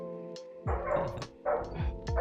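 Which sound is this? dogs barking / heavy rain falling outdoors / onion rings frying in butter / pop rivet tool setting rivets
dogs barking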